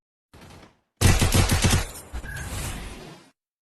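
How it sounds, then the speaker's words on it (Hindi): AWM sniper rifle gunfire from the Free Fire video game, a short burst of loud, sharp firing after a faint lead-in, with rapid repeated cracks that decay into a lingering tail. "इसको अपन बोलते हैं AWM।"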